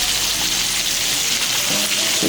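Light soy sauce hits hot cured fish in a wok, and a loud, dense sizzle hisses steadily and close throughout without a break.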